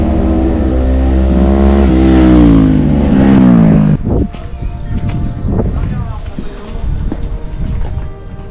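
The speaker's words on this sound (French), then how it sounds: "On est en moto." Motorcycle ride near a citadel: a loud engine drone with wind rush, the pitch rising as it revs for about four seconds, then the engine drops to a lower, rougher idle with a few sharp knocks, with no speech.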